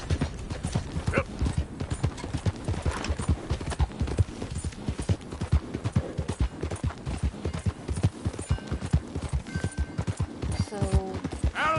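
Horse hooves clip-clop steadily in Red Dead Redemption II, a loud continuous trotting rhythm with occasional game sounds and a brief whinny near the end.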